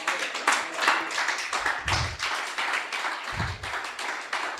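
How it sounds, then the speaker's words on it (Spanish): A church congregation claps in uneven bursts, a fairly close, moderately loud patter of many hands with a few heavier thumps, heard without speech. "Denle un aplauso al Rey por eso."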